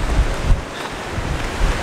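Strong wind at a Spanish seaside before a storm, buffeting the microphone as a constant loud rumbling roar with surf-like noise and no voices.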